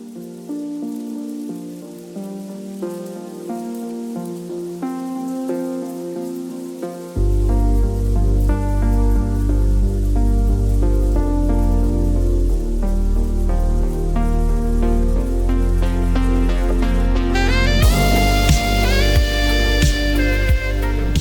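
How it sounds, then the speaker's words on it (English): Steady rain patter from an AI-generated effect blends with a gentle melodic music track that swells to fuller volume partway through. "here we have the option to add rain effects, so let's try it out."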